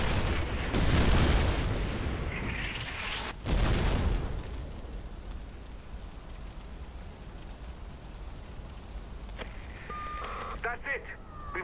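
An artillery piece blows up during the Far Cry 4 siege of Utkarsh: a heavy, broad explosive blast hits early, a second loud boom follows about three seconds later, then a long rumbling fade.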